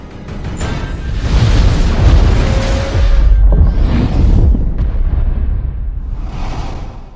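A massive explosion booms and rumbles loudly, followed by rolling blasts and whooshing debris that gradually fade away.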